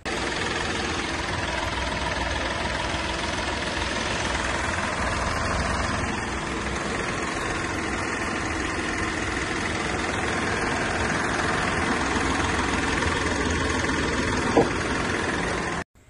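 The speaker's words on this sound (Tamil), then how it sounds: "இன்ஜின் ரூம் அண்ட் இன்ஜினோட நாய்ஸ் எல்லாமே லைவாக வந்து பார்த்துருப்பீங்க ஸோ இது ஒரு டீசல் வண்டி தான்" A Hyundai Xcent's diesel engine idles steadily for a long stretch, a constant rumbling clatter up close with no voices, cutting off abruptly at the end.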